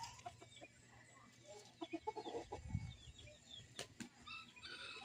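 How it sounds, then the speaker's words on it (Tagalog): Chickens clucking at a rural home in Kabanbanan, Pagsanjan, Laguna, with a louder burst of calls near the middle over steady background ambience. "Ayan ang mga manok."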